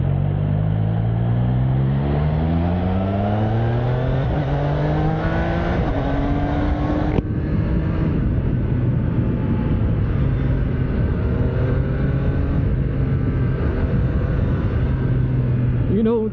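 A 2025 Triumph Trident 660 motorcycle engine accelerating in sport mode, revs climbing through a gear, a brief shift, then pulling steadily again, loud and close with a rider talking over it.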